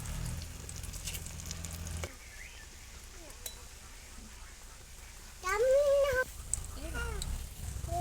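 Cauliflower kebabs sizzle steadily in hot oil, a soft continuous hiss, while a cat meows a few times partway through.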